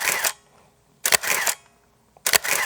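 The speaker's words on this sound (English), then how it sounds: "that shutter sounds a lot more solid. It's definitely a lot quieter, but it just feels less clunky." A medium format 645 film camera shutter fires three times, each a crisp, solid mechanical snap close to the mic, separated by about a second of near silence.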